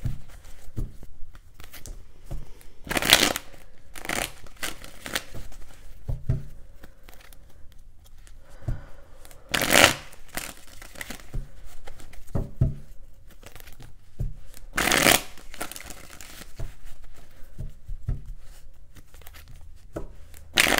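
Tarot cards are shuffled and handled in intermittent bursts, with papery riffles and snaps scattered between quieter gaps, close and moderately loud, and no talking.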